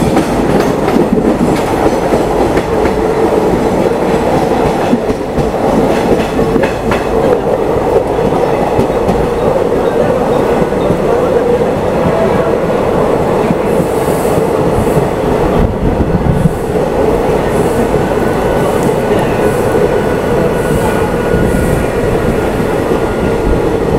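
An Indian passenger train on a monsoon run from Manmad to Mumbai, near Chinchpokli, rolls along the tracks with a loud, continuous rumble and rhythmic wheel clatter from inside the coach.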